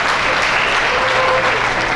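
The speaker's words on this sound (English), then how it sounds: "So clap for me because I'm a drug-free puppy today, you guys." A school assembly audience claps in a brief, dense burst of applause, steady and fairly loud from start to end.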